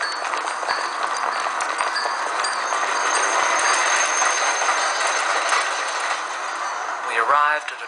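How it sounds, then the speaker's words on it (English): A tram travelling into the city, a steady broadband rumble of wheels and motor throughout, with a brief squeal near the end, loud and close, as heard from on board. "The next morning we caught a tram all the way into the city."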